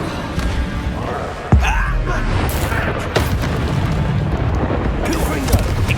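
A Bombarda spell explosion in Hogwarts Legacy: sharp, loud booms land amid a dense, noisy combat mix, with a spoken incantation mixed in.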